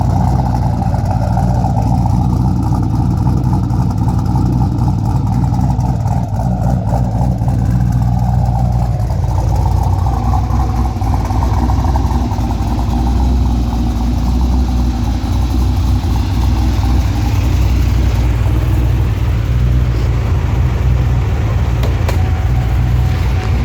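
A twin-turbo fifth-generation 416 LSX V8 idles steadily through dual MagnaFlow mufflers, an X-pipe and full 3-inch exhaust, a loud, continuous low rumble with a slight lope and no talk.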